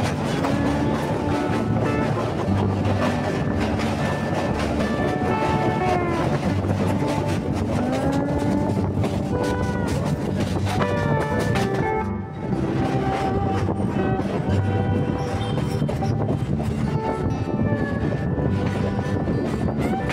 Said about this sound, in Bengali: আমাদের ট্রেন প্রবেশ করেছে বালি হল্ট স্টেশনে